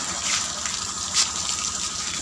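Water gushes and spreads across a rooftop in a steady, broad rush with a couple of brief louder surges, close by and continuous with no talking.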